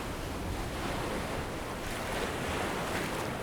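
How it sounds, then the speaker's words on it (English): Ocean waves break on a Pacific beach on a cold morning. The surf is a steady, wide wash of noise with wind rushing over the microphone. "The surf is incredible this morning, and the friends catch some fantastic waves."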